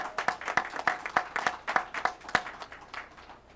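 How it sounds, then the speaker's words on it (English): A small group applauds at a SUNY Downstate event, a sparse run of about ten distinct hand claps, each sharp and clear, moderately close with quiet gaps between them. "Give yourselves a big round of applause."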